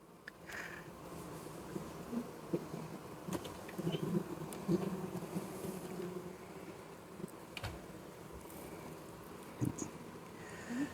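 Honey bees hum steadily in an open hive box during an inspection, a soft, dense buzz with occasional closer passes and faint clicks and knocks. No one speaks.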